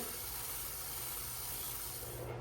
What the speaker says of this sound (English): The first thing I want to do is flatten out both sides. So for that, I'm going to use this 60 grit disc.